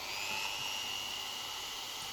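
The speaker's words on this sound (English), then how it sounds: "The next step is to drill some pilot holes for these access holes" A hand-held drill boring pilot holes through a jig for access holes in a DIY 3D printer build, giving a steady high whine that holds without pause throughout.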